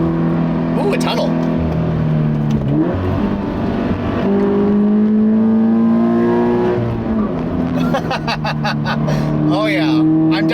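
A 2017 Toyota 86 at full throttle in a tunnel, its engine revving hard through rising gears with loud, echoing roars and brief drops at shifts, while someone talks over it.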